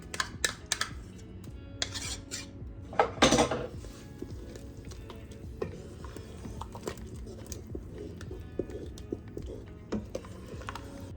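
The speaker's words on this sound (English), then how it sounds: "Now I'm gonna stir in my sour cream." Sour cream is stirred into a pot with a spoon, producing close clinks and scraping knocks, loudest in a brief burst early on, then softer scattered taps over a quiet background.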